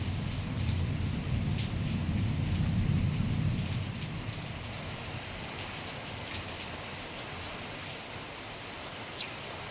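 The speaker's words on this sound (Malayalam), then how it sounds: "പുറത്ത് നോക്കിയപ്പോൾ നല്ല മഴയാണ് കേട്ടോ" Heavy rain pours steadily outside a home kitchen, a dense continuous hiss with a deeper rumble in the first few seconds that fades to an even downpour.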